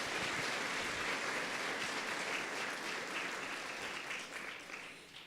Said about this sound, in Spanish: ¿Por qué no le damos un aplauso en esta mañana de gratitud?